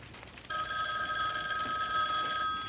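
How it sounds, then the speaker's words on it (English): A telephone bell starts ringing abruptly and continues as a steady, bright electronic trill, fairly quiet and alone with no talking. "Phone's gonna ring?"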